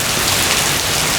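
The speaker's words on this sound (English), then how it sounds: "it is pouring out there right now" Heavy rain pours steadily during a severe thunderstorm in Brooklyn, New York, a dense, close, continuous hiss of downpour with no break and no talking.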